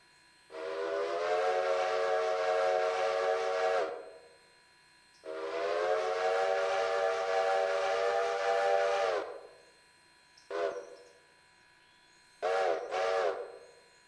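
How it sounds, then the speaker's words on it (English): Two long, loud steam train whistle blasts in the video game Railroader, followed by a short toot and a quick double blast, each with a harmonic, piping tone. "pull the whistle then"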